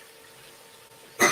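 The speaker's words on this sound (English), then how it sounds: "I keep coughing" One sudden, loud cough bursts out right at the end of a quiet kitchen moment during Valentine's Day cooking.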